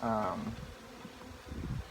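Honeybees drone around a hive during an inspection, the buzzing strongest at the start and settling into a low, steady hum.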